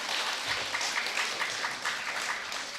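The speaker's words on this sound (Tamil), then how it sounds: "கைத்தட்டுங்க" A crowd applauding at St. Antony's church feast in Siluvaipatti, a soft, distant patter of many hands clapping steadily for a few seconds.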